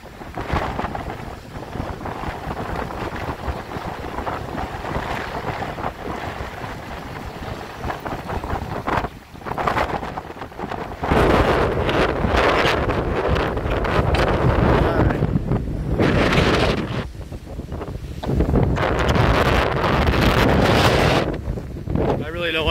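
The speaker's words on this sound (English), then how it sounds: "This wind is pretty strong, I can tell you that." Strong hurricane wind from Hurricane Ian batters a microphone outdoors along the Florida coast, a loud continuous roar with gusts that swell and dip and grow louder in the second half.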